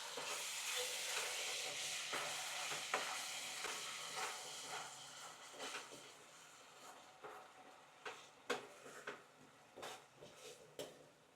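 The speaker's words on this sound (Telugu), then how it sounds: "అల్లం వెల్లుల్లిపాయ పేస్ట్ వేసుకుని పచ్చివాసన పోయేంత వరకు ఫ్రై చేసుకోండి" Ginger garlic paste fries in a pan as a soft, steady sizzle and hiss that fades slowly, with faint scraping and clinks of stirring scattered through the later part.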